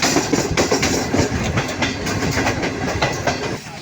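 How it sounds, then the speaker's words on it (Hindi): The Green Line Express arrives at platform 4 of Khanewal Junction in Pakistan, its carriages rolling past close and loud with steady clickety-clack of wheels over rail joints and a continuous rumble; no one speaks. "ट्रेन हमारी train green line express Khanewal junction पर प्लेटफॉर्म नंबर 4 पर अराइवल बना रही है।"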